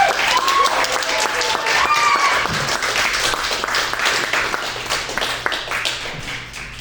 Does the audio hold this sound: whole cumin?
no